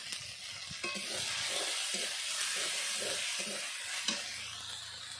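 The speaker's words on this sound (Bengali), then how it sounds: "এখন দিয়ে দেবো বেটে রাখা আদা আর জিরে।" Ginger and cumin paste frying with tomato in a hot pan for a vegetarian soybean and potato curry, a steady close sizzle with occasional scraping stirs, no voices.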